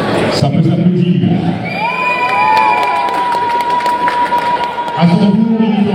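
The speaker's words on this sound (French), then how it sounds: "Ça peut s'applaudir." Guests at a wedding dinner cheer and applaud, loud whoops and shouting over clapping, with a sustained high whistle-like cry rising through the middle and voices breaking in at the start and end.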